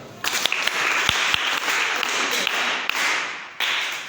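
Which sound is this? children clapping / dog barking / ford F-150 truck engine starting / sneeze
children clapping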